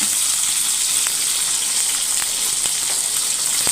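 Tomato sizzles in a frying pan for sambar, a loud, dense, steady crackling hiss with faint spatters throughout.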